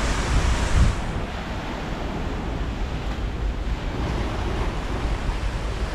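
Surf rolling onto a beach at Bucana Beach Resort in Ternate, Cavite, a steady broadband wash of waves with wind noise on the microphone, loud and continuous throughout.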